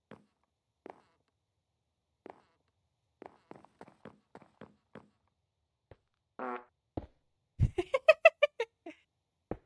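A cartoonish fart sound effect in a building game, heard as a short burst of sputtering squeaky blasts near the end, after scattered soft clicks and footstep-like taps; no talking.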